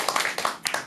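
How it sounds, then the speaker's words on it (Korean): An audience at a motivational lecture gives a short burst of clapping, a handful of sharp, distinct claps spread over less than a second. "이제 박수 한번"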